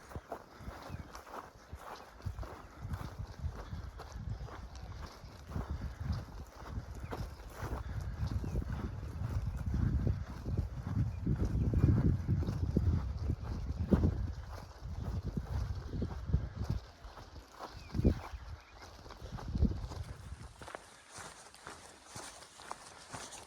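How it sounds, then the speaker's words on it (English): A herd of cows closes in across a big cow pasture in light rain: heavy, irregular hoof thuds and shuffling steps, near and growing louder, over a steady wash of rain and wind, with no talking. "Bunch of cows coming up."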